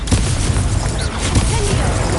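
A fiery Confringo spell blast in Hogwarts Legacy gives a dense, loud burst of crackling explosion noise through the whole moment, with a voice shouting over it.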